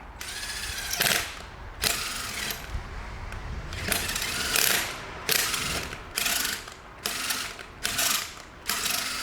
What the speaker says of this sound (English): Now what we need to do is just check it with the bolt. So I'm just going to run it in and out.